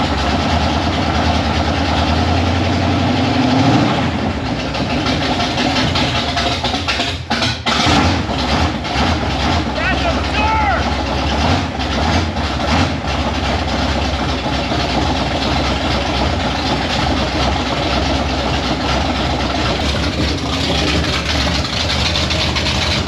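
A built Pontiac 455 V8 in a Firebird cranks over and catches, then settles into a loud, rough, steady idle with a deep rumble, heard up close and running on without talk.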